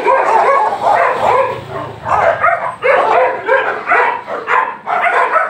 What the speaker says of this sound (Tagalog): Gagalit yung mga aso.